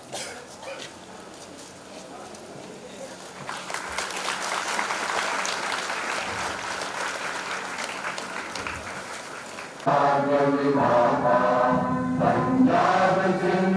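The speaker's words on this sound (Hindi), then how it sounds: "जोरदार तालियों से" A crowd applauds steadily to honour the Indian tricolour flag, the clapping swelling after a few seconds, then continuing more loudly beneath a burst of tonal music or singing.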